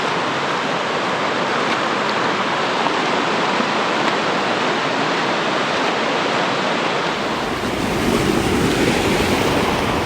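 Rushing water roars steadily nearby on the Tokopah Falls trail in Sequoia National Park, a dense continuous wash like a fast stream or small falls, with some wind on the microphone.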